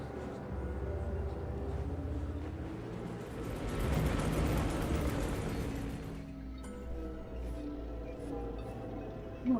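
A deep, sustained rumbling blast from a video game explosion that swells to a roaring peak in the middle, then drops away, leaving a lower rumble with faint crackles.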